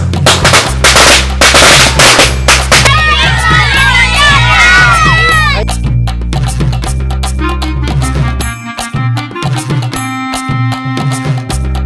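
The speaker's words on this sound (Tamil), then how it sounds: "அடுத்து வந்து சின்ன சடப்படம்." Small Sivakasi firecrackers burst in a quick volley of sharp, loud cracks at the start, followed by a noisy crowd with children shouting and cheering.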